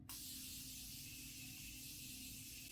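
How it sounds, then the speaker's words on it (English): Morphe Continuous Setting Mist spritzed onto a face: one sudden, steady, fine hiss that carries on unbroken, soft and close, with no talking. "I'm going to go ahead and spray my face now"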